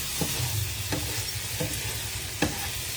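Coconut milk sizzling steadily in a pan as it is stirred while cooking down into latik, with a few soft scraping strokes of the spoon breaking through the continuous frying hiss.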